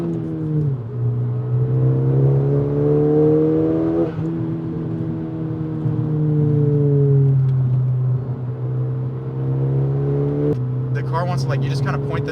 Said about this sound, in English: You hear a lot more road noise than anything.